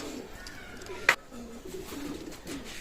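Soft cooing of Teddy pigeons murmurs steadily in the background, broken by one brief, sharp bird call near the middle.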